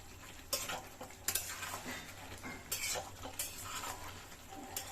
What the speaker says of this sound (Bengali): ধনেপাতাটা দিয়ে হালকা কষাতে হবে।